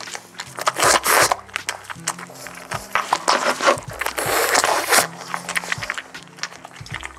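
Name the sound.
dog crunching a homemade birthday treat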